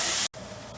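Water poured into a pan of frying tomato sauce and spices for Indian chicken curry sets off a loud, broad sizzling hiss that drops out for an instant, then carries on steadily.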